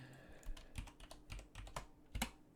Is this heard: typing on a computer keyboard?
yes